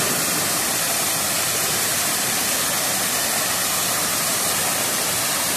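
Heavy, steady rush of a full waterfall, Cachoeira dos Almeidas, roaring loud and close as a constant broadband wash with no voices.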